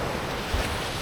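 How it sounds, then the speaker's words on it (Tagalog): Ocean surf rolling in at high tide with fairly strong waves, a steady broadband wash of water and wind noise with no clear breaks, fairly loud and close, with boats out on the water. "High tide ngayon. Medyo malakas ang alon."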